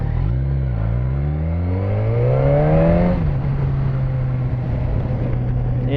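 Suzuki GSX-S 1000F sport-touring motorcycle engine revving up in rising pitch, then dropping to a steady lower drone as it decelerates under heavy engine braking, loud and close with no talk.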